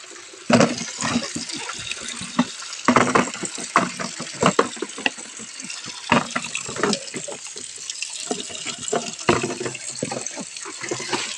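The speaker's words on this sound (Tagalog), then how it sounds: "Spring water." Cold spring water pours steadily from a tap beside a river, a continuous close splashing rush with occasional louder gushes and people talking over it.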